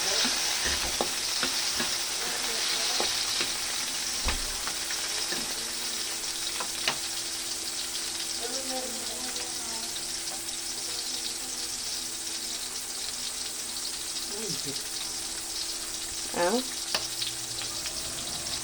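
Garlic and tomato sauté in a pan with a steady, hissing sizzle, punctuated by occasional scrapes and stirring clinks, heard close and fairly quiet.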